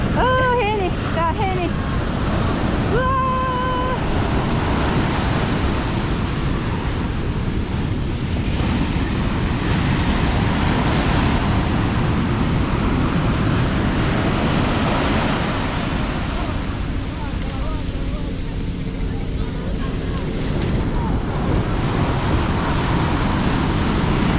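Ocean surf rolling onto Copacabana beach in Rio de Janeiro, a loud continuous wash of breaking waves with wind buffeting the microphone, and people talking over it near the start.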